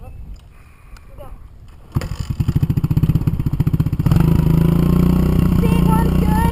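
A Kawasaki KLX110 dirt bike with its choke pulled out catches after a quiet moment, chugs in rapid uneven putters, then settles into a loud, steady running rattle close by.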